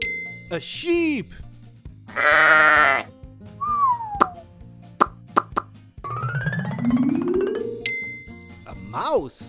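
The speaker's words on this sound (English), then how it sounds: "A sheep." A cartoonish sheep bleat sounds amid playful plops, dings and musical effects, with a brief spoken word nearby.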